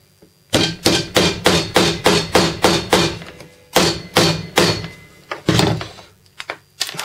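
Hammer driving a nail into wood while building a solar panel frame: two quick runs of sharp, evenly spaced blows, about ten then four, followed by a few scattered lighter taps, close and loud.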